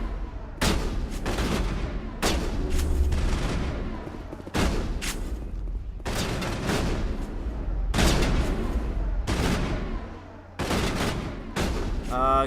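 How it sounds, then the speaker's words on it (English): Repeated bursts of gunfire from the sci-fi shooter game Mass Effect, loud and close, arriving in several separate volleys with brief gaps between them and ending in a final short burst. "What are you guys shooting at?"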